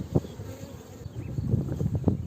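A queen honeybee held in the hand gives off short, low, wavering buzzes, close and intermittent, growing busier toward the end.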